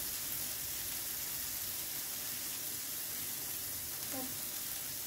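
Minced beef steaks fry in a pan with a steady, dense sizzle that stays loud and even from start to finish, with a brief faint clink near the end.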